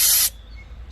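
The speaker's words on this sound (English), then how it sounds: "spray the needle off" A short, loud burst of aerosol spray, cleaning the needle of a small two-stroke carburetor, cuts off sharply after a quarter second and leaves a quiet room tone.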